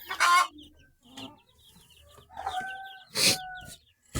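Chickens cluck and a rooster crows in a farmyard, with scattered nearby clucks and two louder bursts standing out over quieter background calls.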